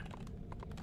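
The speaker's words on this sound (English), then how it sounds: "I heard how you were typing." Fast typing on a computer keyboard during a game, a faint, close patter of soft key taps in an uneven rhythm under a low background hum, ending with a brief thump.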